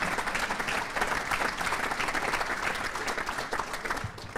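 A room full of dinner guests applauds a governor's speech at a chamber of commerce annual dinner in Norwalk, steady, dense clapping that holds strong for several seconds.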